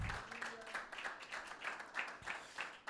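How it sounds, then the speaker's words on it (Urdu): A church congregation claps for Jesus at a Sunday service, with a loose, rhythmic patter of hands repeating in waves and a low background murmur of voices. "یسوع کے لیے تالیاں بجائیں کلیسیا"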